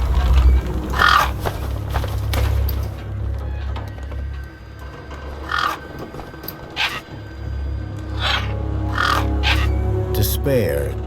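Harsh cawing of scavenging gang birds over a wasteland in the game Beyond a Steel Sky, several scattered calls rising above a low droning rumble, with a voice narrating between them.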